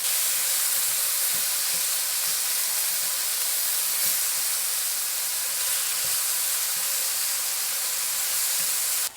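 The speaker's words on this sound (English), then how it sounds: "So now the pan is nice and hot, I'm just going to add my bacon in." Bacon fries in a hot pan with a dense, loud, unbroken sizzle and hiss that runs steadily throughout, with faint pops and scrapes beneath and no voices.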